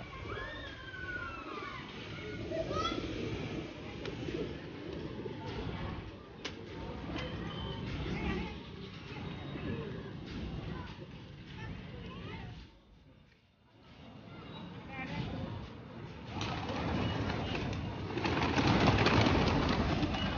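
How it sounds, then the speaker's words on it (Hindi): Pigeons cooing and fluttering on a rooftop loft with a large flock, soft repeated coos mixed with bird calls and ambient noise, a voice talking intermittently over them. "ये देखो कैसे बैठे हैं भाई कबूतर"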